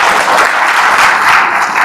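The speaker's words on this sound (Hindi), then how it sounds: "तो जोरदार इनके तालियों के साथ स्वागत करें" An audience at a religious gathering gives a speaker a loud, dense burst of sustained clapping that fills the room.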